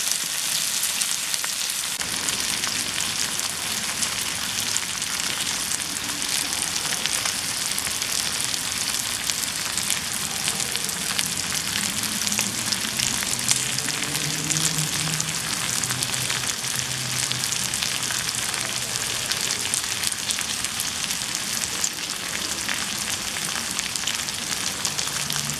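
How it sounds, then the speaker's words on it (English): Homemade bacon frying in a pan, a steady dense sizzle and crackle with constant spitting fat that holds evenly close up for the whole stretch, no voices over it. "we'll fry that up"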